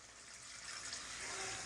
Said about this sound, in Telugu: కొన్ని తగినన్ని వాటర్ యాడ్ చేసుకుందాం.